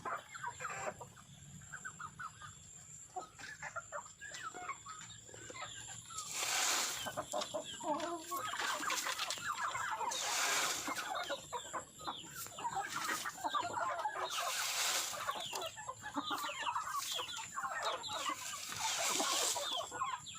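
Farmyard chickens cluck and squawk continuously while being fed paddy rice, with several louder bursts of excited calling up close.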